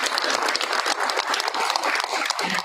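Audience clapping at a school board meeting for staff being recognized, a brisk, fairly loud burst of many hands that stays even for a few seconds.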